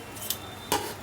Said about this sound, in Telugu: చూడండి ఎలా కట్ అవుతుందో.